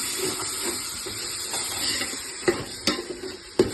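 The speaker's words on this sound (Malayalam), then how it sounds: "അപ്പൊ ഇനി നമ്മക്ക് തക്കാളി ഇടാം. എന്നിട്ട് നല്ലൊന്ന് മിക്സ് ചെയ്യണം." Tomatoes are stirred and mixed in a frying pan for a home-style biryani, a steady soft sizzle and hiss with a few sharp clinks of the spoon against the pan, close and without speech.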